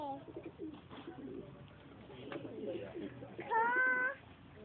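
A pigeon coos in a few soft, low, throaty notes amid faint background voices and shuffling, ending in a louder, wavering call near the end.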